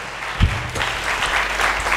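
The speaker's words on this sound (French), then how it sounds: "Acclamons très fort pour le roi de rois." A church congregation applauds at a preacher's call during a sermon, a brief burst of steady crowd clapping with a thump near the start, moderately loud and continuous throughout.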